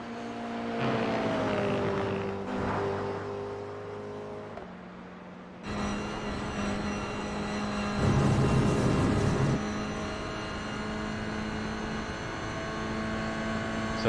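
Engine of a Toyota GR86 in a racing simulator game, heard onboard through a lap: a steady tonal drone that climbs and shifts pitch with gear changes, loud and continuous with no talk.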